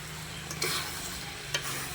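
Chicken liver sizzles steadily in a hot pan while a spoon stirs it, with two short scraping strokes cutting through the frying crackle.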